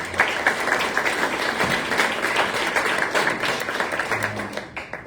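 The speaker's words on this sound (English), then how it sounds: "Let's give them a round of applause." Audience at a Rotary club gathering applauding, steady crisp clapping of moderate loudness and even density throughout, with a brief murmur of voices near the end.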